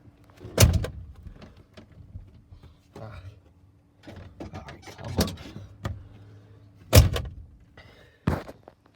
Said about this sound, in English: Just close the door so I don't drain battery